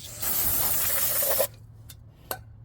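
Aerosol spray can hissing steadily onto a brake rotor during a brake pad and rotor job on an Acura TL, a continuous close spray for about a second and a half, followed by a few faint clicks and taps.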